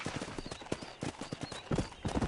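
Horse hooves clip-clop in an uneven trotting rhythm while riding in the Red Dead Redemption video game, fairly quiet and steady with no talk over them.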